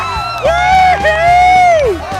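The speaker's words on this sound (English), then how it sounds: "Let's give a round of applause to Kiba Walker" Convention crowd cheers and whoops at a fan event, loud and close, with a prolonged rising-falling shout carried over the noise of the gathered audience.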